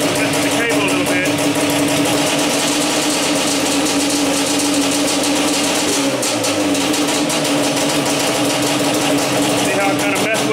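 A Yamaha Banshee ATV engine runs steadily and rises in revs as its throttle cable is moved, a continuous close buzzing drone with someone talking over it.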